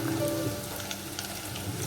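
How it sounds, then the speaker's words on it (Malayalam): Fish sizzling and crackling in hot oil, a soft continuous spatter from a pan, fairly quiet. "ഇത് ഫ്രൈ ചെയ്തെടുത്തിട്ട് നമുക്ക് മീൻ വറുത്തിട്ട്"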